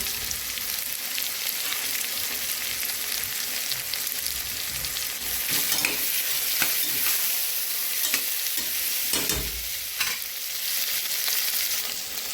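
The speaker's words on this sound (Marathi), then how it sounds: "मस्त परतलं आहे तेलामध्ये याच्यात टाकते मी कोथंबीर" Spices, chili powder and fresh coriander fry in oil for a pulao, a steady close sizzle broken by scraping stirs and bursts of crackling, with no voices.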